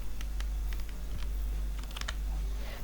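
Keyboard shortcuts tapped on a computer keyboard while working in Adobe Photoshop CS6, heard as a quick series of distinct, fairly close key clicks over a low steady hum.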